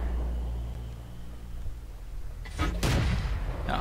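Panzer IV tank cannon shots in World of Tanks: a low engine rumble runs under a quiet stretch, then a couple of sharp, booming blasts burst out near the end, loud and close.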